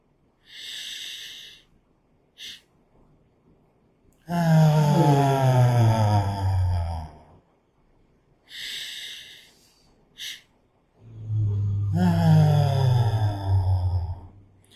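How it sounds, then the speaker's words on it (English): Guided meditation breathing, twice repeated: two quick sniffing inhales, a pause while the breath is held, then a long, loud, close exhale released as a sigh. "These are double breath inhales, and then we hold it for a little bit, and then we exhale with a sigh."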